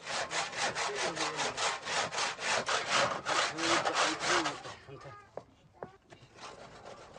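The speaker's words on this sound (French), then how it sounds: "les blocs de sel sont d'abord sciés en 4 morceaux" A hand saw cuts through a salt block in the Danakil region of Ethiopia, a fast, rhythmic rasp of about twenty close, loud strokes that stops partway through, followed by softer scrapes and knocks.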